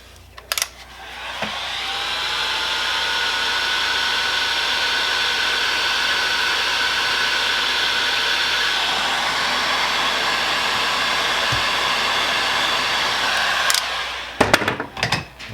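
A heat gun blows a steady, loud hot-air whoosh for about thirteen seconds while shrinking heat shrink tubing over spliced wires on a VZ 3.4L engine harness, then cuts off with a few handling clicks.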